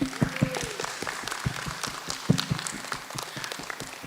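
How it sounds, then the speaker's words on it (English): An audience at a comic convention main stage panel claps in a brief burst of applause, scattered and moderately loud, tapering off over a few seconds. "Round of applause."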